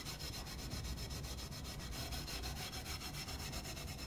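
Coarse steel wool rubbed over a drawknife blade makes a steady, close scratchy scrubbing that keeps going the whole time, with no voices.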